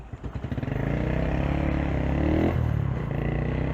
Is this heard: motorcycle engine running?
yes